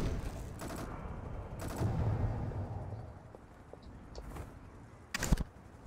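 Video game turret fire: brief bursts of gunfire, a few separate volleys with a louder burst near the end over a low rumbling background.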